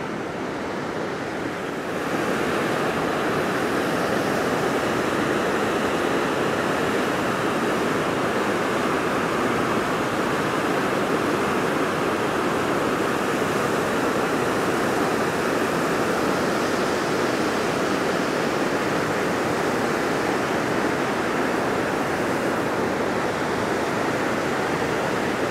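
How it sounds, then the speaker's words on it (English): White River Falls, a waterfall in the Pacific Northwest, roars as a dense, unbroken wash of white noise that stays loud and steady throughout, with no voices over it. "And then we have the waterfall."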